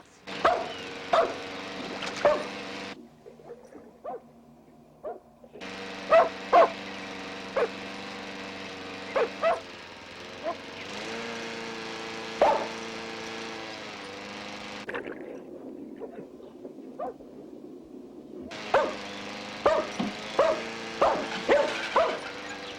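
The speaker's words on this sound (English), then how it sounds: "Mickey, go see what the hound is barking at." A hound barks in short repeated bursts over a steady droning engine-like hum, the barks sounding moderately close and coming in uneven clusters.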